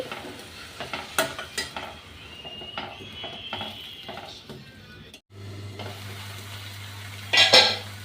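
Green chili and onion paste fries in a pan for an egg chutney, with spoon scrapes and clinks over a steady sizzle and louder metallic knocks near the end; a low hum enters partway through and no one speaks.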